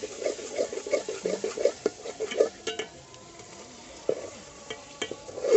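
Desi country chicken frying with masala in a pan: a steady sizzle under repeated scraping and clinking as it is stirred, with a few sharper metallic knocks of the utensil against the pan.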